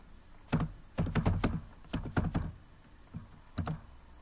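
A handful of close keyboard keystrokes typing a BASIC-256 print statement, in short clustered bursts with brief pauses and no talking over them.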